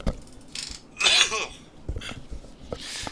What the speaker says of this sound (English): God, I need to cough.